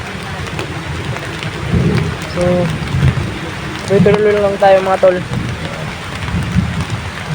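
Steady rain hisses and patters in the background while someone speaks over it, the downpour continuous throughout.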